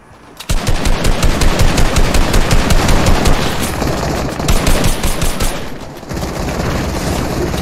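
Loud, rapid automatic gunfire in the Fortnite video game, a dense continuous rattle of shots lasting several seconds with brief dips, with no talking over it.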